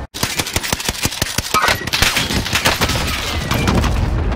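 An enemy hip-firing in the Warzone video game sends out rapid, loud automatic gunfire: a steady string of close, sharp shots that thickens into a dense, unbroken roar of overlapping bursts.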